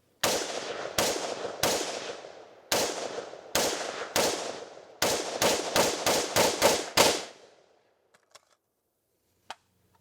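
Rifle fitted with a duct tape optic firing outdoors: a dozen loud, sharp shots, spaced at first, then in a quicker string, followed by faint clicks and a small knock.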